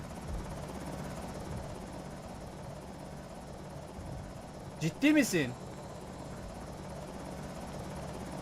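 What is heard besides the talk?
helicopter flying overhead in a video game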